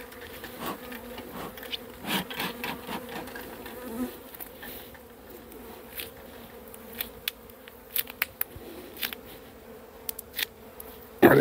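Honeybees hum steadily around an open beehive while a beekeeper works the frames, the soft buzz continuous and close, broken by scattered clicks and handling taps.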